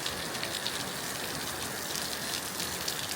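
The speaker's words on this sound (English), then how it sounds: "it is torrentially lashing rain" Heavy, torrential rain drums on the roof of an indoor horse-riding arena, a steady dense hiss with no break and no voices.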